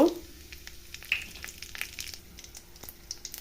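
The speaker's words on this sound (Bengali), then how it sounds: "জিরার মধ্যে শুকনো লঙ্কা দিব।" Dry red chilies dropped into hot oil with cumin for a dal tarka, a quiet crackling sizzle with scattered sharp pops and clicks.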